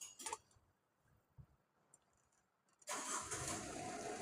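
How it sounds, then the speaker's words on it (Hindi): A car engine cranks and catches after a few faint clicks and knocks, then settles into a steady, fairly loud idle with the vehicle's wheels raised off the ground for a hydraulic power brake demonstration. "अभी इसको मैं इंजन को स्टार्ट कर रहा हूं"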